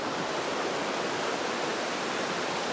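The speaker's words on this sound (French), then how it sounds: "La petite rivière qu'on peut voir là, c'est ce que nous appelons la rivière Paradis." Rushing water of a small river in Guadeloupe, the rivière Paradis, forms a dense, steady broadband roar close by, with no pauses or voices.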